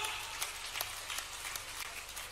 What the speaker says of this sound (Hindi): जोरदार ताली बजाइए साहब